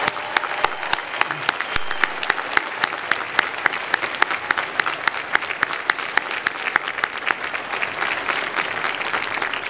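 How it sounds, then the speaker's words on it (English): Steady, dense applause from a large audience at a law school commencement ceremony, continuous clapping throughout with no pause. "let's give one more round of applause to all the people whose love and support made this possible"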